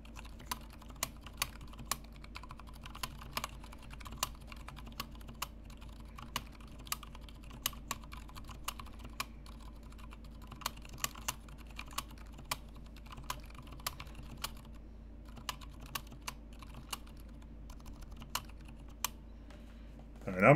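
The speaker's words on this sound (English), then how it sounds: "So let's do just very brief typing now that we've added the internal weight." Brief typing on a Top Clack M60-A mechanical keyboard fitted with an internal weight, a quiet run of fairly even key clacks recorded close up, with a louder thump at the very end.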